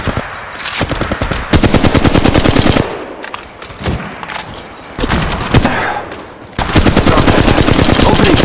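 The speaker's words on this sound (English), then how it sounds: "Opening fire on the enemy." Weapon gunfire in the video game Apex Legends Mobile: loud, rapid automatic bursts in several long strings, separated by brief quieter gaps.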